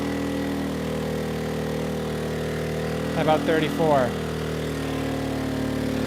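An ERAYAK 4500W dual-fuel inverter generator runs on propane under heavy load, its engine droning steadily and laboring as it slows, with a man's short question heard over the hum.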